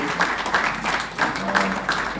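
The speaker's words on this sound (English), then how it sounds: "Big applause to all the startups presenting today." Applause rises from an audience at a sports innovation summit held during the 2018 World Cup, a brief, steady burst of many hands clapping at close range.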